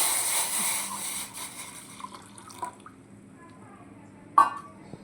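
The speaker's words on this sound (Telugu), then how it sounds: "వాటర్ పోసేసుకున్నాండి ఈ గిన్నెతో వాటర్ తీసుకున్నాను" Water pours into a pot on a stove with a steady rushing hiss for a second or so, then fades into quiet clinks and a sharp knock near the end.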